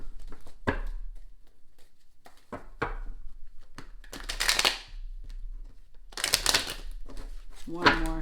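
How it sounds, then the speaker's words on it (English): A tarot card deck shuffled by hand in several quick bursts of riffling and slapping cards, close and fairly loud, separated by pauses, with a voice heard briefly among them. "Let me just get a real good shuffle"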